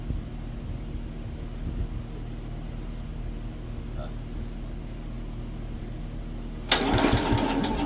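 A Wisconsin AB military signal corps generator engine idles with a steady, low mechanical hum and rattle, then grows louder and harsher near the end as it revs up.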